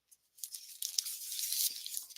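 Sheets of blue paper being handled for a craft project, a crisp crinkling and rustling that builds and continues for a couple of seconds, close and fairly quiet, with no talk.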